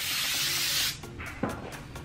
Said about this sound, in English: That's a big hairspray.